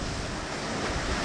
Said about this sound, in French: Superbe spectacle que celui de la mer dans les alizés.